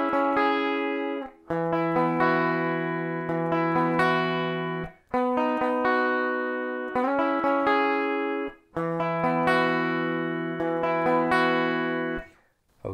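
Three guitar chords from a song are strummed in turn, each ringing for a few seconds before a short break, loud, close and steady without talk.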